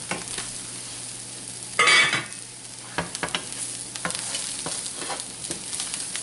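Shaved Brussels sprouts sizzle steadily in a hot pan, a continuous close frying hiss with a louder burst as they're stirred and scattered scrapes and clinks of the utensil against the pan.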